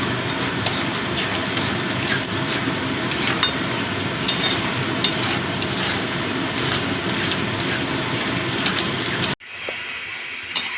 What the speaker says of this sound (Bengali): চিনিটাও মিশিয়ে নিচ্ছি।